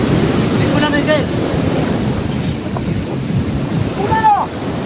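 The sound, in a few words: strong ocean waves crashing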